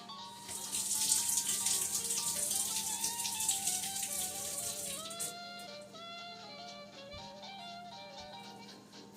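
Running tap water pours steadily into a kitchen sink as an onion is washed, a continuous hiss with splashing, rattling drips, moderately close and without talk.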